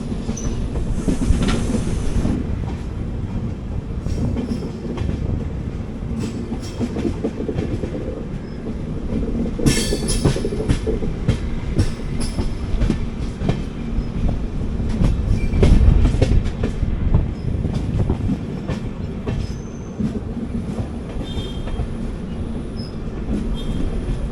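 Passenger train on the Tambaram to Kochuveli route via Sengottai rolling over railway points as it approaches Tenkasi station, heard from inside an AC economy coach: a steady loud rumble with clattering wheel clicks and brief squeals, no talk.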